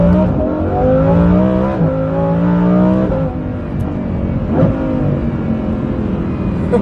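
A Lamborghini Huracan Performante fitted with a Kline-Innovation Inconel exhaust revs hard close up, its engine note climbing in several loud, rising pulls with brief dips between, then settling into a rough, steady roar.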